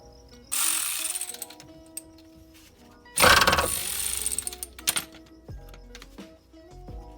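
A ratchet works on a brake caliper part of a 1997 Honda Civic 1.6L hatchback, with two bursts of rapid clicking ratcheting and scattered metallic clinks and knocks, close by with no talk.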